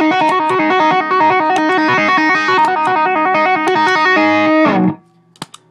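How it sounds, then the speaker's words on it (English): An electric guitar plays rapid hammer-ons and pull-offs through a ModTone Clean Boost pedal, with bright, slightly driven notes running loud and continuous for about five seconds before stopping abruptly. "You could certainly hear it when you're doing the hammer-ons and pull-offs like this."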